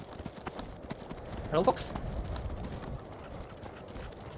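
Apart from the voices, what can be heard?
horse hooves clip-clopping in Skyrim video game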